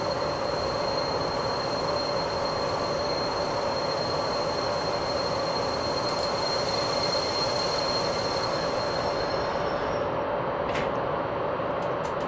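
A BR 442 electric multiple unit in Train Simulator 2015 running along the line, a steady rolling rumble with a constant tonal whine and faint high squeal, continuous and fairly quiet, without talk.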